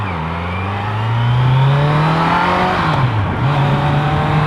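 A 2018 Kawasaki Z900 motorcycle engine revs up close and loud, its note climbing, holding, then dipping briefly before rising again.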